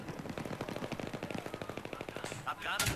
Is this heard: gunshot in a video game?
yes